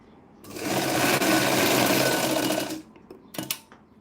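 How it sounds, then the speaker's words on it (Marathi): A sewing machine runs in one steady, loud burst of stitching for about two seconds while doing a double-row cover stitch on a blouse shoulder, then stops, followed by a few short clicks and handling sounds. "डबल शिलाई मारायची ही अशी कडीन शिलाई मारून घेतली"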